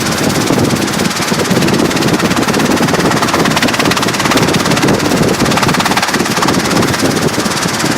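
A Robinson R22 helicopter engine is throttled back up to recover from a simulated engine failure during student pilot training, a steady loud broadband roar with rapid rotor chop filling the whole stretch.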